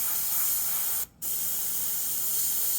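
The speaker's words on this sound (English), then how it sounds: "Air drying it, spraying far away." A fine spray hissing steadily over an India ink painting on Claybord, loud and continuous apart from one brief pause before resuming.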